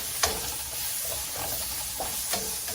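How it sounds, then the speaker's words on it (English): Big chunks of chopped onion searing in a hot pan, a soft continuous sizzle and hiss broken by a few quick stirring clinks and scrapes, close and alone. "coloring and searing the onions, trying to get the raw taste out"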